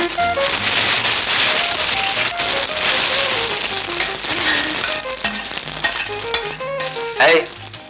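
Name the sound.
tempering spices sizzling in hot oil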